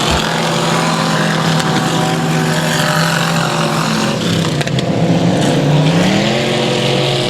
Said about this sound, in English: Langford closing the gap on your 3rd place car, Zachary Calhoun in the 22 machine.